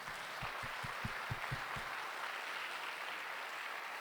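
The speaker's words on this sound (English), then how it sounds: "I just want to give them one more round of applause." An audience at a justice conference gives a round of applause, a diffuse hiss of clapping heard from a distance and fairly faint, with a few low thumps early on.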